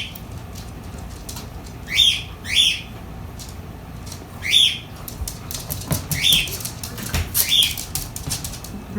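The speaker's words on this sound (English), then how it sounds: "Bird is screaming because he wants your attention." A pet bird screeches in repeated loud, rising calls, five or so harsh bursts spread across the stretch over a noisy indoor background with some clattering.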